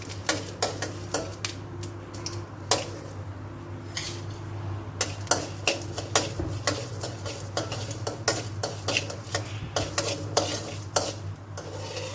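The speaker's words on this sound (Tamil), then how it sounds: "இதில் நம்ம இந்த உளுந்தை மட்டும் தனியாக ரோஸ்ட் பண்ணி எடுத்துக்கிறோம்." Urad dal roasts in sesame oil in a pan while a spoon stirs it steadily. Repeated crisp scrapes and ticks sound over a low, constant sizzle, close by and with no talk.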